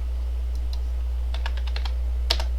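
Keys clatter on a computer keyboard in quick, short bursts of close, crisp clicks over a low steady hum, with no talking.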